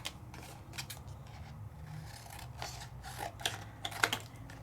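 Scissors snipping through a paper craft piece, a quiet series of uneven crisp cuts that grow sharper and more clustered toward the end, with no talking.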